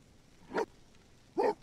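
A dog named Star barks in The Sims 4 game, two short distinct barks spaced under a second apart, moderately close and clear over a quiet background.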